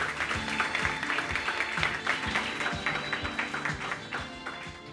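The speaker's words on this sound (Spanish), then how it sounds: "Un aplauso para Lourdes." Audience at a Madrid book presentation applauding a speaker: steady, dense clapping from a moderate-sized room, fairly even in loudness throughout the five seconds, with individual sharp claps standing out.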